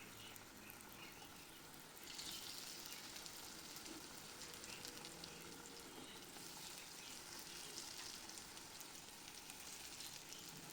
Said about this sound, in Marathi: आता एका फ्राईंग पॅन मध्ये थोडे तेल गरम करा व त्यामध्ये हे कापून ठेवलेल्या वड्या हळूवार सोडा.